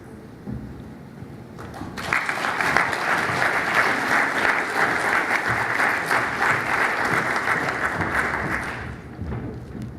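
Sustained audience applause at a public-sector innovation forum, swelling to full strength after a couple of seconds and holding steady before tapering off, dense clapping from a sizeable crowd with no talk over it.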